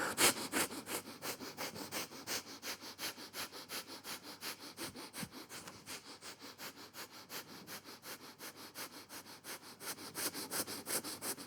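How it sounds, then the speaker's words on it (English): Rapid, forceful nasal breaths of breath-of-fire yoga breathing, a steady quick pulse of sharp sniffs held close and fairly quiet, with no talking. "Exhale and begin the breath of fire."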